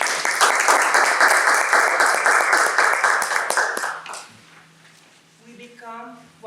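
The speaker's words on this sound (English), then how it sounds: "Round of applause." Round of applause from a club meeting audience after a public speech, steady dense clapping for about four seconds that stops abruptly, followed by quiet room sounds and a brief tonal sound.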